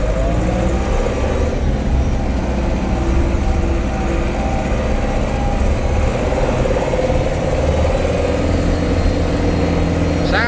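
A Case 885 XL tractor's diesel engine runs steadily as the machine drives over bumpy ground, a loud, continuous low rumble with no break across the whole stretch.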